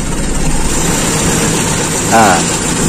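A Toyota Kijang Super carburetor engine, apparently still cold, runs loud and steady close to the microphone and rises briefly in pitch near the end as it revs, with a voice faintly present over the engine.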